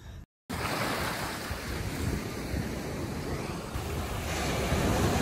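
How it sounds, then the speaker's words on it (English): Ocean waves wash onto a beach under gusts of wind buffeting the microphone, a broad continuous rush that swells slightly toward the end, after a momentary dropout at the start. "Such a beautiful beach."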